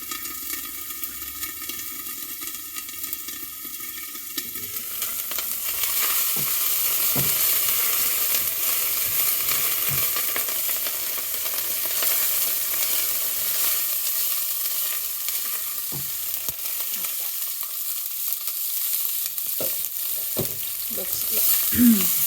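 Minced garlic sizzles loudly in a hot pan for palak paneer, steady frying hiss throughout with intermittent scraping stirs and clinks, no talking.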